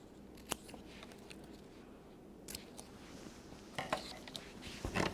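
Scissors trimming craft material, heard as quiet, close snips and clicks that come irregularly over a low background hiss and grow more frequent toward the end.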